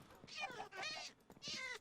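A cat meowing in the Minecraft video game, three drawn-out mewing calls in a row, fairly loud and clear, with faint background noise between them.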